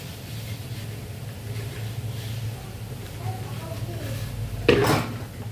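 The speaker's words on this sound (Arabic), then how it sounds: "نغسل مع بعض شويه الاطباق دول" Dishes being washed by hand in a home kitchen, with low running water and a steady hum under soft clinks of plates, building to one louder clatter of crockery near the end.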